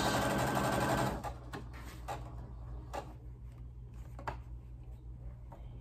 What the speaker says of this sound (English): I go ahead and sew back stitch